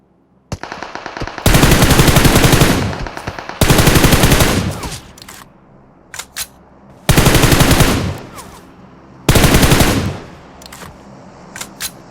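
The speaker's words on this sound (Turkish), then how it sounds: "Bana VSS mi sıkıyor?" A VSS rifle fires in PUBG Mobile: four loud, sustained bursts of rapid shots, with a few shorter pops in the quieter gaps between them. No voices are heard.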